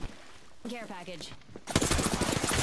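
Incoming gunfire hits the player in a battle royale video game as a loud, dense burst of rapid shots and impacts that fills the second half, following a short stretch of voice lines.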